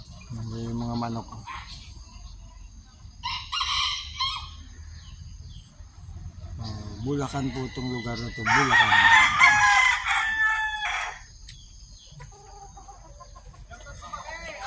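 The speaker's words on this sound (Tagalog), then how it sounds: "Yung mga manok." Roosters crowing and chickens clucking around a farm in Bulacan, several loud calls overlapping at mid distance, with someone talking between them.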